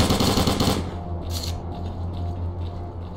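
A burst of rapid MP5 submachine gun fire in STALKER Call of Pripyat rattles loudly for under a second, then stops, leaving a low hum and a faint later shot.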